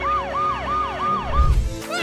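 Ambulance siren wailing in a fast repeating rise-and-fall, loud and close for about five cycles, then cut off by a burst of low rumbling noise.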